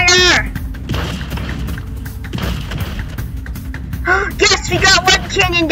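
Artillery fires in the Scrap Mechanic video game, with a few heavy booms and thuds over a rumbling backdrop as excited voices shout at the start and end.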